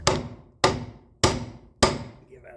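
Four sharp metal hammer whacks on the front CV shaft of a 1997 Chevy 4x4, evenly spaced about half a second apart, each ringing briefly before the next.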